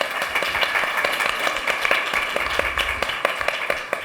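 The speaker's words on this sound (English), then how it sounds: "So a warm welcome to the panel. As part of the registration, round of applause." A round of applause from the audience welcoming a panel at a sustainable events gathering in Cambridge, steady, dense clapping of a medium crowd lasting throughout, with a faint murmur underneath.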